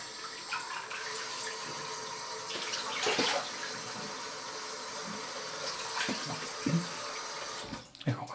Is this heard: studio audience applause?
no